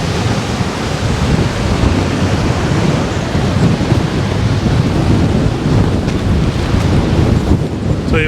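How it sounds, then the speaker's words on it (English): Strong wind blowing on a beach, buffeting the microphone in a loud, steady roar with surf-like rushing mixed in, continuous and close for the whole stretch with no talking. "this wind can bugger off"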